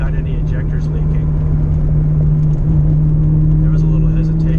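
A Ford Mustang engine runs steadily at part throttle during a fuel-system test, a constant low hum with a strong tonal drone, close and continuous throughout.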